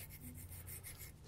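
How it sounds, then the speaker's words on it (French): Granite stone rubbed with a rasp in a sculptor's workshop, giving a faint, continuous dry scraping texture with no voices. "j'adore le bruit de la pierre au granit quand il frotte"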